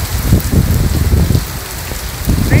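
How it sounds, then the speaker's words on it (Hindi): Heavy monsoon downpour pouring outside on a Mumbai street, a dense, steady roar of rain drumming on surfaces close by with no voices over it. "ये देखो मूसलाधार बारिश हो रही है"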